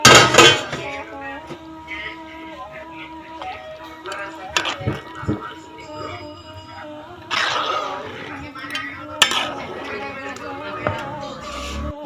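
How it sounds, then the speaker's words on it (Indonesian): A spoon stirs chicken gulai kaliyo in a metal pot, with scattered clinks and scrapes against the pan while a person talks over most of it. "Nah kita aduk-aduk terus sampai benar-benar mendidih."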